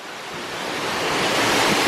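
Loud, continuous rush of a waterfall at Animal Kingdom, a dense roar that swells slightly over the couple of seconds, heard close with no voices over it.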